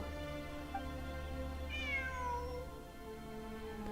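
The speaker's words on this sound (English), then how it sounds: "It really is a cat." A cat meows in the game Genshin Impact, one drawn-out, falling mew rising over a steady hum of background game music, with no voices.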